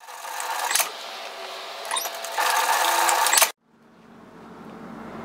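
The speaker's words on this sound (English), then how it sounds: "we're going to sew these short ends together" A sewing machine stitches the short ends of a fabric sun hat band together in a steady whirring run of about three and a half seconds, then stops abruptly, leaving a faint room hum.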